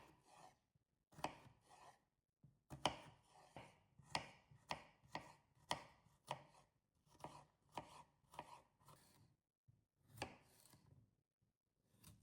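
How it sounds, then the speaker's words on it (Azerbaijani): A knife chops fresh cucumbers into small cubes on a board for a salad, giving sharp, close, rapid cuts in irregular bursts with brief pauses between them and no talking. "3 ədəd təzə xiyarı da nazildib kub şəklində doğrayıram."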